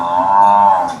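A Murrah buffalo at a dairy farm lets out a single sustained moo, loud and close, lasting about a second with no voices over it.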